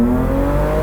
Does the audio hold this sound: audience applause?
no